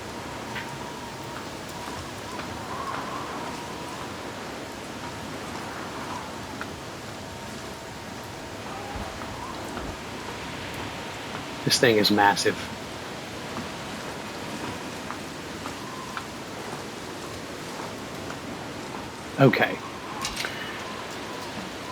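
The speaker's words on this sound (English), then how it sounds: "It's definitely raining harder as we go. Wind's blowing a little more." Steady video-game rain with gusting wind forms a constant hiss throughout, with someone talking quietly over it and two brief louder clanks partway through.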